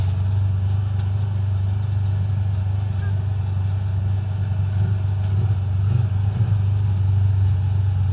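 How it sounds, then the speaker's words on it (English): A side-by-side utility vehicle with an automatic transmission idles close by at a Boulder Canyon, Michigan campground, giving a loud, steady low engine rumble that holds evenly throughout. "This guy just pulled up with his side-by-side."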